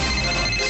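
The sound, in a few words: telephone ringing on radio show call-in line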